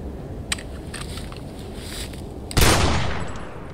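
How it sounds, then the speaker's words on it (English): A single loud gunshot blast at close range, sharp onset with a long decaying tail over a low background rumble, preceded by a faint click. "everybody gets nervous when they're firing a gun."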